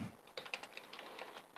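Quick, light keyboard typing during a podcast recording, a fast run of soft clicks, close but quiet, with no voices over it.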